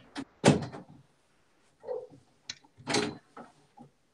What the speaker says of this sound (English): I'm closing the door, Alfie